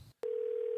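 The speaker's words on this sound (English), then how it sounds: "Oh, got a phone call." A phone call effect from the Twitter Spaces soundboard plays a clean, steady electronic tone that starts abruptly after a brief silence and holds unbroken, close and clear.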